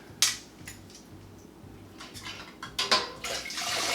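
Hot peaches, just off the boil in light syrup, are spooned into hot canning jars, with wet sloshing, splashes and glass-and-utensil clinks over a faint rhythmic background hum.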